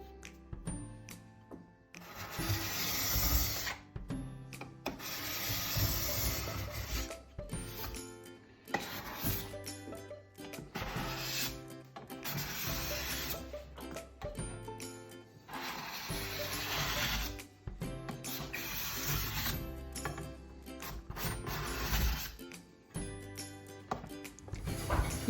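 A scraper works varnish off a bamboo worktop in repeated rasping, ratchety strokes, an uneven rhythm of close scratchy passes with brief pauses between them.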